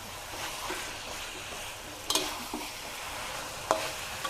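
Fried snakehead fish being stir-fried into red curry paste with pickled bamboo shoot, a soft continuous sizzle under scraping spatula strokes with a couple of sharp clanks against the pan, close but quiet, no talking.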